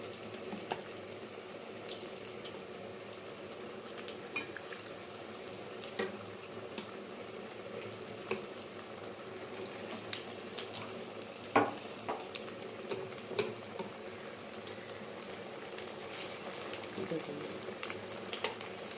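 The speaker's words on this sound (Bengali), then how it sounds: "দেখুন বন্ধুরা কীভাবে ভাজছি।" Eggplant pieces frying in hot oil in a home kitchen, giving a steady close sizzle with occasional pops and utensil clicks throughout.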